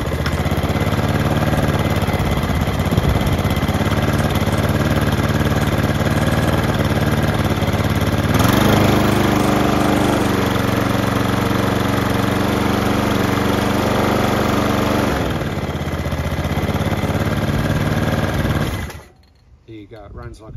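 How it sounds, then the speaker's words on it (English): A discarded lawn mower engine, fuel tap on, starts and runs steadily close by with a loud continuous drone and a brief surge partway through, then cuts off abruptly near the end. "It runs like a treat, and somebody threw this lawnmower out."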